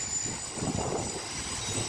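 A Pune metro train rumbles past at a steady roar, with a continuous wash of rail noise and faint high-pitched wheel squeal.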